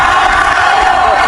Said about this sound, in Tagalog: the crowd chanting Magsayo